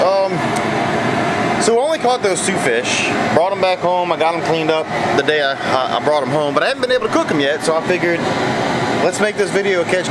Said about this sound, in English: Sorry about the noise, got the boiling pot rolling